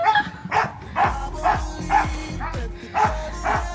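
A dog barks in a steady series of about eight loud, close woofs spaced roughly half a second apart, with a few yips mixed in, outdoors on a sunny day while the family dog is taken for a walk.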